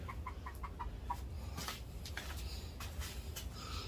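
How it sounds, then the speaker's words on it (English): A black chicken clucking nearby, a run of short rapid clucks at first, then scattered louder squawks and calls, with faint scratching in the background. "Always got the black chicken."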